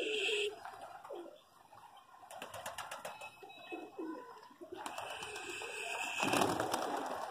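Pigeons flap their wings at close range in a short burst, surrounded by soft cooing from the birds, for a young pair being trained and settled into a loft with a cage.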